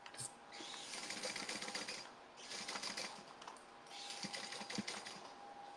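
A sewing machine runs basting stitches on a tote bag in three steady whirring bursts separated by short pauses, close and fairly quiet.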